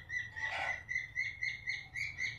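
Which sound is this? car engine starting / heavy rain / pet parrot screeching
pet parrot screeching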